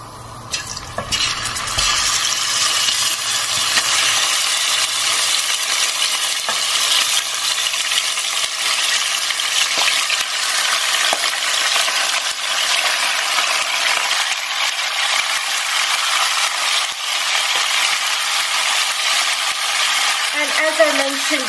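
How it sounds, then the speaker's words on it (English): Beef sizzles loudly in hot oil infused with dry spices, a dense, steady frying hiss that runs the whole time. There is some stirring and clinking at the start, and no one speaks. "So our beef goes in next."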